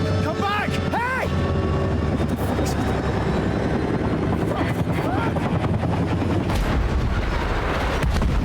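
Helicopter crashing in Still Wakes the Deep: a loud, continuous roar of rotors and rumbling impacts with sharp bangs and squeals, dense and close, with no speech over it.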